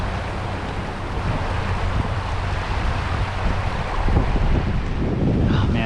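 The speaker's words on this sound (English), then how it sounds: "It's real windy right now." Strong wind buffeting the microphone beside a river during fly fishing, a loud continuous roar and rumble that fills the whole stretch with no pause.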